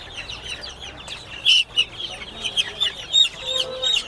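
Chickens cluck in irregular, close bursts at a busy poultry market in Tongi selling local ducks and chickens, with a steady din of market background noise underneath.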